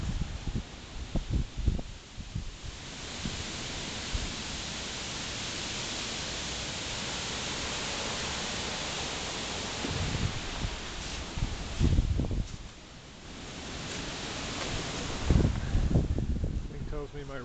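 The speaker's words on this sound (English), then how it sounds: "It's just very windy." Strong wind during Hurricane Sandy roars in a steady broadband rush with heavier gusts and buffeting, loud and close, while a person speaks in the clip.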